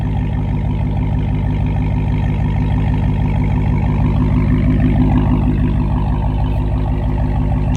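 A Dodge Challenger or Charger Hellcat with catless midpipes idling, deep throbbing exhaust rumble, steady and loud up close, with no talking.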